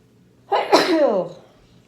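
A single sharp human sneeze, close and loud, bursts out alone in a quiet room at home during a drawing session.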